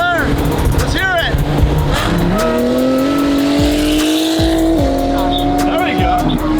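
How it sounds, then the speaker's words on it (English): A modded NSX sports car passes close by, its engine note loud and steady, then climbing in pitch as it moves through, with street noise around it. "You don't see modded NSXs that often around here, even in LA"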